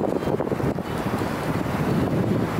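Strong, icy wind buffets the microphone in loud, rumbling gusts, a continuous low roar with no voices.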